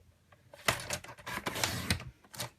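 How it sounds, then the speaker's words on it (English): A paper trimmer slices through cardstock for a Stampin' Up! card, giving a few close, crisp scraping and clicking strokes in quick irregular bursts with short quiet gaps between. "I'm going to cut this down to 3 3/4."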